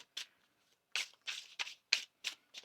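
Tarot cards being shuffled by hand, a series of six or seven quick riffling bursts in an uneven rhythm, close and fairly soft, with no talking.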